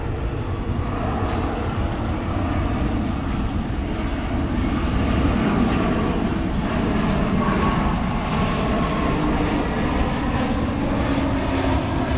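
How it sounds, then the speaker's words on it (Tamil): A passenger jet flies overhead on its approach to land at Singapore's airport, a loud, continuous engine roar that holds steady throughout, heard without talk. "இப்போ பார்த்தீங்களான்னு சொல்லிச்சுன்னா ஒரு ஃப்ளைட் வந்து கொண்டிருக்கு"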